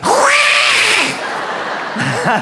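A loud cat yowls in long, wavering, drawn-out cries, close and insistent, with no other sound competing.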